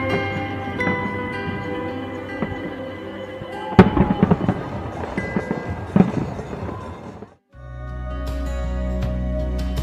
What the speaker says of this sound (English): beautiful fireworks that lit up the city